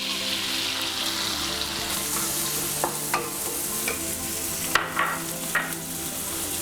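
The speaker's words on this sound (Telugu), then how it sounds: "కడాయి పెట్టుకుని ముందుగా ఆయిల్ వేసుకుందాం. బటర్ కూడా, ముందుగా ఆనియన్స్ వేసుకుందాం." Onions frying in oil and butter in a kadai for street-style pav bhaji, a soft steady sizzle with a few clinking, scraping stirs of a spoon against the pan, close and without talk.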